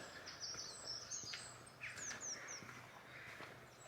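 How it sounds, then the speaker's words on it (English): Several birds chirp and warble in quick, bright phrases at Blair Drummond Safari Park, fairly faint over a quiet outdoor background hum; no talking. "A lot of birds singing away."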